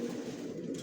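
Large pigeons in a breeding loft give a soft, steady cooing, low and continuous, close by with no talking.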